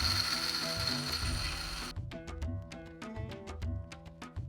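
A mixer grinder powders cooled, roasted masala spices for a horse gram and pomelo-greens huli. It gives a loud, dense whirring burst for about two seconds, then a rapid ratcheting clatter of close, sharp ticks as it pulses and runs down, with no talk.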